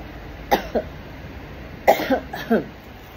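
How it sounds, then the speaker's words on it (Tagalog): A woman coughs close by in a few short, dry bursts: a pair of coughs, then a pause, then a tighter cluster of three, over a quiet indoor background. "Inuubo na naman ako."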